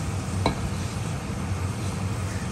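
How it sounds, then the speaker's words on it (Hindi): Vermicelli simmering in milk with sugar is stirred in a pot, a soft steady bubbling and scraping texture with one brief clink of the spoon early on, close and low. "तो चलिए अब इसे भी मिक्स करते हैं। मिक्स करके 5 मिनट तक और मज़ीद पकाते हैं इसे।"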